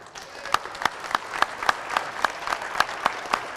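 A small audience at a parish candidate forum claps in a steady, fairly even rhythm, several distinct claps per second ringing out in a modest room, moderately loud and with no voices over it.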